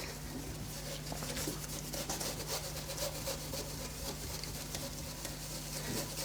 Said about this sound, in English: this, after the 1000 grit wet and dry, is just polishing up really,